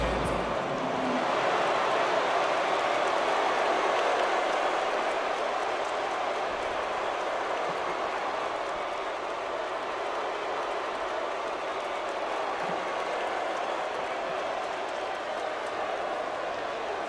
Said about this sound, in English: This crowd not pleased with that.